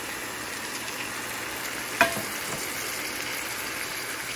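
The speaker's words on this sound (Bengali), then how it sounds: "গরম ঝোল দিয়ে দিচ্ছি মাছে।" Hot broth goes into a frying pan of spiced Boal catfish with lemon leaves, over an even, continuous sizzle, and one sharp clink marks the middle. No voices.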